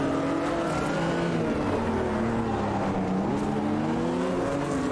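A race car engine in a sim racing game on the Adelaide circuit holds a loud, steady, high-revving drone, with pitch rising and falling through gear shifts as it drives flat out.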